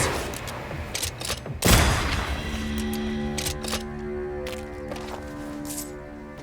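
A single loud gunshot fires in the video game Banishers: Ghosts of New Eden, a sharp close blast that rings out and decays over a low, humming game ambience with faint scattered ticks.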